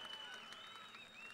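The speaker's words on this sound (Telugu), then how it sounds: "గట్టిగా చప్పట్లు కొట్టి అభినందించండి" An audience applauds at an NTR 100 Years celebration, producing a faint, steady wash of clapping with thin tonal ringing over it throughout.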